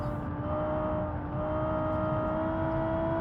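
Civetta Scintilla hypercar in BeamNG.drive under full throttle, a steady, loud engine drone with a high whining tone that holds without letup, heard from the cockpit with no talking.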